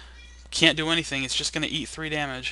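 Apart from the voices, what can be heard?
cat meowing in the background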